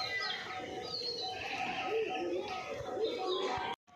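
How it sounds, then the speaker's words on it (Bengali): Domestic pigeons coo in soft, rounded calls, with chirps and a flutter of birds close by, as a person talks over them throughout. "অনেকটা পায়রা উড়ালছে, অনেকটা"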